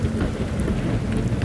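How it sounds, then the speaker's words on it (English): A thunderstorm mixes steady rain tapping on windows with a low, rumbling roll of thunder. The brief stretch is loud, dense and constant, with no voices. "Listen to the soothing sounds of the rain tapping against the windows and the rhythmic roll of thunder."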